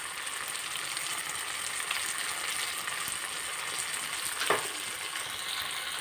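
A steady, close sizzle of coriander chutney ingredients with sugar and chilli frying in a pan carries on throughout, with a soft stir or scrape near the end.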